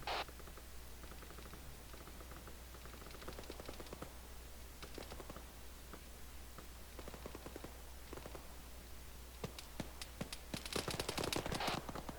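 Scattered gunfire in the ArmA 3 military simulation game, with irregular bursts of sharp shots at varying distances, some faint and far, growing denser and louder toward the end.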